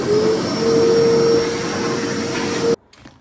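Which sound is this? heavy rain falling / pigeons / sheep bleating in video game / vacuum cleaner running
vacuum cleaner running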